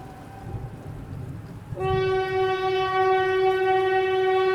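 A train rumbles along the rails in a low, steady roar, then a loud sustained horn blares at about the halfway mark and holds to the end.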